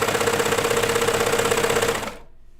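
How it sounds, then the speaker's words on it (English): A serger overlocks the long edge of jeans fabric in a fast, even mechanical chatter, close and loud, then winds down and stops abruptly near the end. "I'm serging the long edge"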